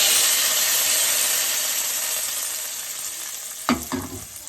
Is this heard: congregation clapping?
no